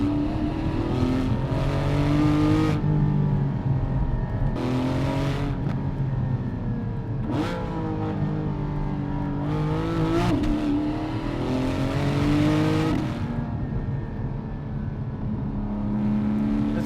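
A Porsche 718 GT4 engine revs hard and drops through gears on a downshift into a corner, blipping and climbing in pitch repeatedly, loud and close throughout with no talk.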